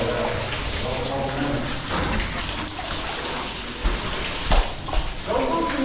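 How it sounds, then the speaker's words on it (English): A cave waterfall pours in a steady, hissing rush of water, close and continuous, with a few louder splashes and bumps near the end as a rappeller descends; a voice speaks over it. "Coming down the first waterfall."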